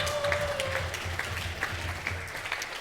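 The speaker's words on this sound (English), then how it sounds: "can we please give a massive round of applause to the staff here at Braysides?" Applause for the venue staff at a wedding reception at Braysides, a steady room-filling patter of many hands that carries through the whole stretch at moderate level, with faint background voices underneath.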